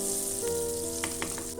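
Roughly chopped onions fry in a pan with a steady, close sizzle, punctuated by a few soft stirring scrapes.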